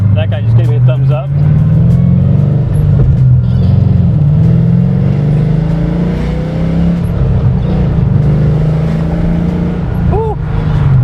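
LS2 V8 in a Datsun 280Z with a T56 manual gearbox, heard from inside the car as a loud, steady, deep rumble that rises and falls through the gears, with occasional voices and brief higher tones from outside.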